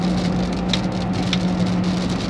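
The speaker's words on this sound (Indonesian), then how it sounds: "Wow, hujan lagi." Rain patters steadily on a Daihatsu Ayla driving along a toll road, a dense, even hiss over the low drone of the engine and road noise inside the car, with no talking.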